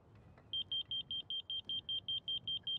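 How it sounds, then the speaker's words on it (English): A laser level receiver on a dual-sided grade rod, used outdoors for wetland design, emits a steady series of about a dozen evenly spaced, clear electronic beeps, close and prominent over faint background noise. "the receiver is beeping slow because I'm low."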